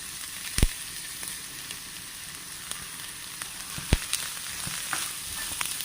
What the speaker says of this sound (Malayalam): അതൊരു വലിയ സവോള ഉണ്ട് അത് നമ്മൾ ഇതിനകത്തേക്ക് ഇട്ട് കൊടുക്കും